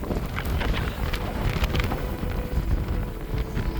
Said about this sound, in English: She's a bit windy up here.